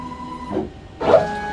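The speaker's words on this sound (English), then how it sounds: "it just comes over, touches off on the tool, and goes back" A Shapeoko 5 Pro CNC router with an 80mm spindle travels back after touching off on the tool, giving two short motor whirs separated by a brief pause over a quiet hum.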